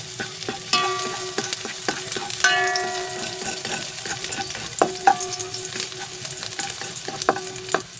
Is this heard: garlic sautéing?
yes